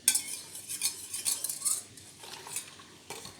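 Homemade dish soap mixture is stirred gently in a container, giving soft, irregular clinks and scrapes of a utensil against the vessel, faint and close with no talk.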